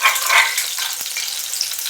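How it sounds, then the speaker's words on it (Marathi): Green chilies fry in a hot pan with a steady, close hiss, a short sharp tap near the middle. "मिरची परतली बघा"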